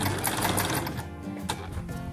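Domestic sewing machine stitching a visible elastic, a fast rapid whir of needle strokes that stops partway, then short bursts resume, close and moderately quiet.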